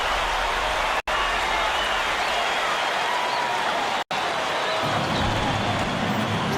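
Virtual arena crowd in College Basketball 2K8 roaring and cheering steadily, a loud continuous wash of noise with two brief dropouts, swelling a little lower toward the end.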